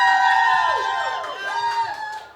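A live studio audience cheers and whoops at full volume, a dense wash of many voices that starts strong and tapers off over a couple of seconds.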